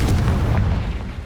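Confringo explosive spell blast in Hogwarts Legacy, a single loud, deep booming burst that rumbles and fades, close and alone.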